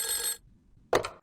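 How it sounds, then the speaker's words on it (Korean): A telephone bell rings in two short bursts separated by a brief silence, bright and fairly close, with no voices over it. "대통령실에서 자꾸 전화 오네."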